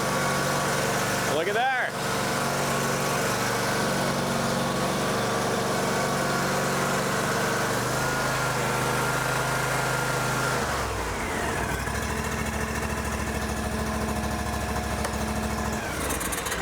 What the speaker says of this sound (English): go ahead and try cranking it over.